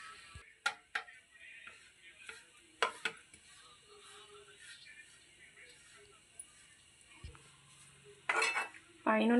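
Freshly grated coconut fries in a spoonful of ghee in a pan over a low flame, with a faint sizzle under scattered scrapes and clinks as a spoon stirs, and sharper scraping bursts near the end.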